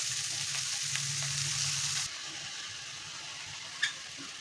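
Leafy greens go into a pan of lightly fried chopped onion and green chilies, giving a loud, bright sizzle that drops to a softer steady frying hiss after two seconds, with one small clink near the end.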